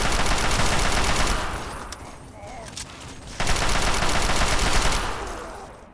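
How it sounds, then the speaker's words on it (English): Rapid bursts of automatic gunfire from Brotherhood soldiers in the video game Fallout 3, loud and dense, with a brief lull in the middle before the shooting resumes at full intensity. "they just turn on you and start shooting"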